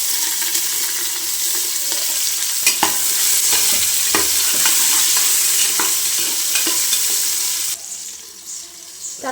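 Small shallots sizzle steadily in hot oil for a Tamil paruppu sadham, with a spoon scraping and clacking against the pan every so often; the frying drops off sharply near the end, leaving quieter sputters.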